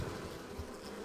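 Honey bees hum softly around an open beehive, a faint, continuous buzzing drone with no voices over it.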